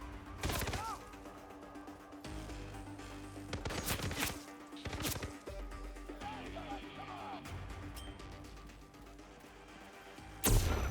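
Gunfire in the stealth video game Hitman 3, a few sharp broadband shots spread through the clip over a steady game soundscape with faint background voices.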